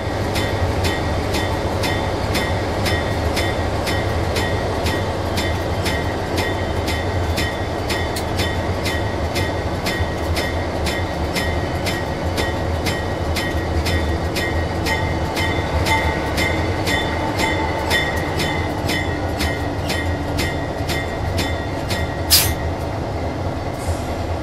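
A White Pass & Yukon Route train rolls on its rails near Fraser with a loud, close, steady rumble and an even clickety-clack of wheels, plus a brief sharp burst near the end.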